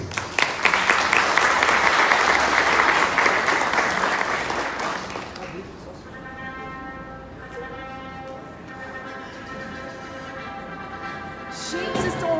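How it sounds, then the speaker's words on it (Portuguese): Loud applause from a crowd fills the first several seconds, then fades out as music continues on its own. "com os nossos aplausos."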